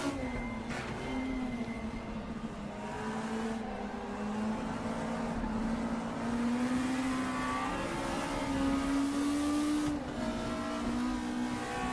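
VW Scirocco Cup race car in the RaceRoom sim at Hockenheim, engine accelerating hard onto the start-finish straight, a steady rising whine with gear-shift dips and changing pitch, continuous and close with faint track noise.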